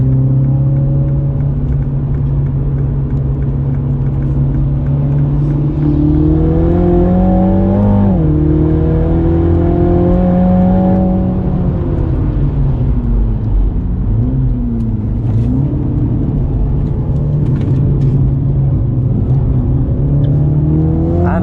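A Mini Cooper F56 GP3 driven hard on a race track: a loud, continuous engine drone that rises and falls in pitch as it accelerates, shifts and eases through corners, with no talk.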